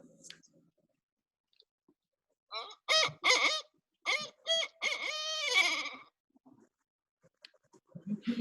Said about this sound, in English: this is the barred owl